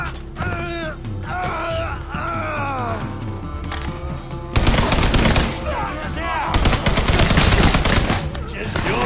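M60 machine gun fire in Mafia 3, sustained loud automatic bursts that break in suddenly halfway through after a stretch of groaning voices and ambient noise, then keep hammering with a short pause.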